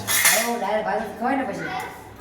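Metal pots and utensils being set in place at home, a few close clanks and ringing clinks of cookware knocking together.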